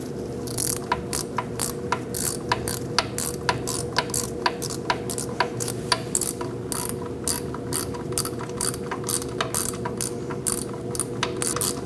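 A hand ratchet clicks steadily and rapidly at close range, snugging the wheel hub bolts on a 2000-2006 Mini Cooper during a front wheel bearing and hub replacement, with the sharp clicks repeating evenly for about twelve seconds and no talk.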